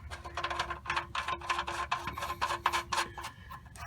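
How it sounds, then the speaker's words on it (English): Oil drain plug being threaded back into the oil pan of a 2009 Mercury Grand Marquis, a steady run of close ratcheting clicks with a faint low hum underneath. "Now I'm going to put my plug back in over here. I'll screw that back in."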